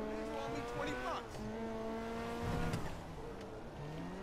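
Benefactor Feltzer sports car from the video game GTA V, its engine droning steadily with rising and falling revs and tire noise, close and continuous throughout.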